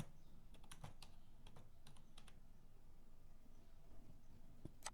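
Typing on a computer keyboard, a quiet run of quick, irregular key clicks in short bursts with a brief pause in the middle, no talk.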